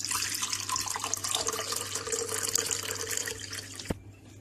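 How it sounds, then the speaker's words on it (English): A coconut water mint mojito is poured through a strainer, a steady close liquid splashing and trickling that runs for several seconds, then stops with a small clink. "And now just strain the drink."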